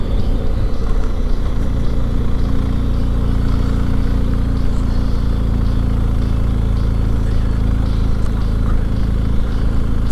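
A KTM 1290 Super Adventure R or BMW R1250GS adventure motorcycle engine pulls steadily uphill in third gear, a continuous loud low drone with wind noise, close and unbroken.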